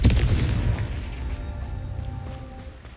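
A Confringo spell blast in Hogwarts Legacy: a single loud, deep boom that strikes at once and then fades into a long rumbling decay, heard alone.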